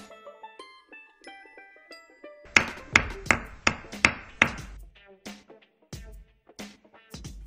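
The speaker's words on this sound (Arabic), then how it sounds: "مطرقة." A carpentry hammer strikes a nail in a steady series of about eight sharp, evenly spaced taps, following a short run of light melodic tones.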